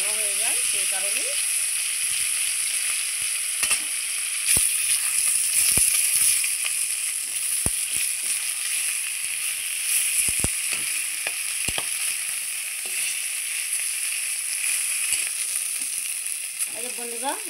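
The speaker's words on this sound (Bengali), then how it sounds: "বন্ধুরা, আমার তেল গরম হয়ে গেছে, মাছগুলো ছেড়ে দেবো।" Fish sizzles steadily in hot oil for a fish chop, a continuous loud crackling hiss with scattered sharp pops, while a voice is briefly heard at the start and end.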